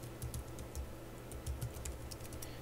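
Password typed on a computer keyboard during a Linux boot, a quick run of soft, close keystrokes tapping unevenly over a steady low hum, no voice present.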